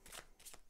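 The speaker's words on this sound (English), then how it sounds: "shuffle up the encounter cards" Deck of encounter cards for the Scythe board game being shuffled in two quick riffling bursts, close and faint, with no talk.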